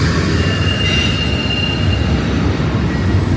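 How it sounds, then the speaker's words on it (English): A train rumbles past close by in Portland, Oregon, with a loud continuous roar of wheels on rails and a high metallic squeal cutting in partway through. "There goes that train."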